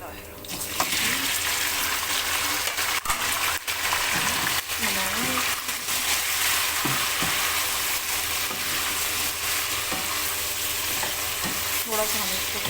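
Mutton frying with onions in a pot for a Punjabi yakhni pulao, a loud steady sizzle throughout with occasional stirring scrapes and clinks up close.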